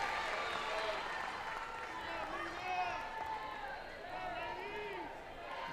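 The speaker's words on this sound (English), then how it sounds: "And the crowd applauds." Softball crowd applauding at a Duke vs Arkansas college game, a steady wash of clapping and cheering from the stands, carried beneath continuous commentary.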